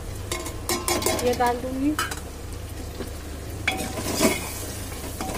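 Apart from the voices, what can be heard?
spices (turmeric, chili, coriander, cumin) sizzling in frying pan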